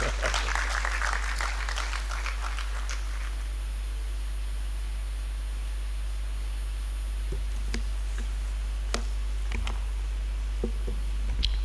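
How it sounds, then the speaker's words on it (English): Brief burst of audience applause at a government dialogue meeting, clustered clapping in the first few seconds that thins to scattered claps over a steady low electrical hum. "Let's clap for him as he comes out."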